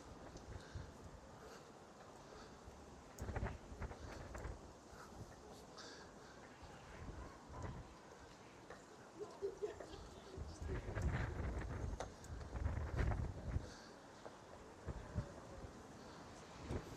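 Gusty wind buffeting the microphone on a city walk in Birmingham, a continuous rumbling roar that surges in louder bursts, with faint crow caws and distant street noise.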